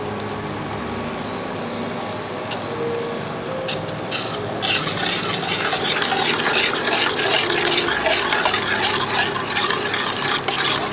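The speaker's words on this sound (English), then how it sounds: "So add the egg and simultaneously keep stirring." Egg stirred into a lemon coriander soup in a pot, with a low steady background hum that gives way to a denser run of scraping and clinking from the spoon as the stirring picks up.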